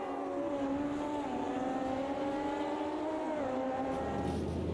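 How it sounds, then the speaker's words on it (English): A 1986 Benetton B186 Formula One car in a racing video game screams at high revs around the Imola circuit, its turbo engine note droning loud and steady, then dropping in pitch as the revs fall. "I'm trying to survive 12 laps on the historic Imola circuit in Gerhard Berger's Benetton B186"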